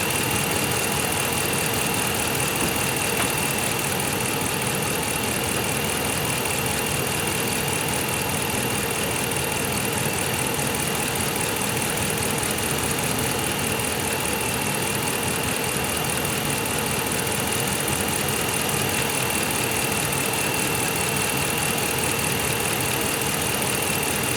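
A Dodge Ram 5.7L Hemi V8 idles steadily throughout, its engine hum constant and close with no talking, as the coolant system is refilled after a thermostat replacement.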